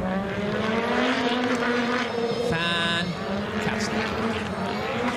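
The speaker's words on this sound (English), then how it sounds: "Sound when he goes down and on the power. It shakes the commentary box, the vibrations of it all." A loud Audi S1 Quattro rally car powers hard on a Race of Champions track in Sweden, its engine holding a sustained, gritty roar with a rising pitch sweep midway, heard close and continuous.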